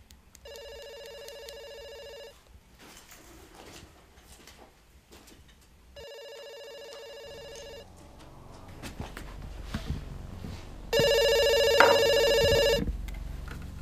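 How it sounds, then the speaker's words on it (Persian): A telephone rings in three separate bursts of trilling bell tones, clear and fairly close, with quiet indoor room noise and a few soft rustles between the rings. "تلفن نمیخوای جواب بدی؟"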